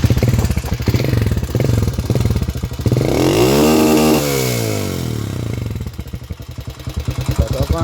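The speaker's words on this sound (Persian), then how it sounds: "متاسفانه موتور کمی فیلر داره، واسه همین صداش کمی نازکه" A motorcycle engine with slightly out-of-adjustment valve clearance, giving it a thin sound, idles with a close, rapid chatter, then revs up to a rising whine and falls back to idle.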